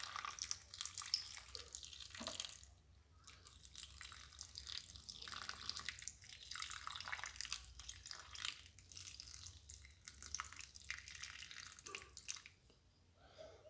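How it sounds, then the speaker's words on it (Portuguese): Filtered tap water runs into the small cups of an ice cube tray in a home kitchen, a steady close trickle and splash with brief pauses and shifts in flow, no talking. "você enche os negocinho aqui de água"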